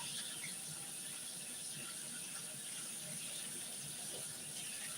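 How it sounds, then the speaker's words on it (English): Running tap water from a kitchen faucet pours steadily while hands are washed, a constant close hiss with no pauses and no voices. "Gotta wash my hands."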